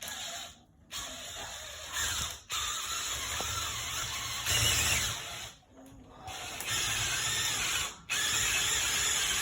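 A power drill bores a pilot hole into a ceiling for big lag bolts, whirring loudly in several long runs separated by short pauses.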